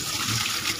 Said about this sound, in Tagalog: Lagyan muna natin kahit isang tabong tubig.